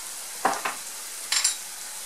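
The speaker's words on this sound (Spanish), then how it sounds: "vamos a revolver" A spoon stirs Cuban peas with oregano, cumin and paprika in a pot, making two pairs of quick scraping strokes close up over a steady low sizzle.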